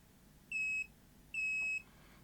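A multimeter sounds two steady, clear continuity beeps of about a quarter to half a second each, spaced nearly a second apart, while a rare JVC ProHD tape machine is being checked against its rotary transformer windings and ground.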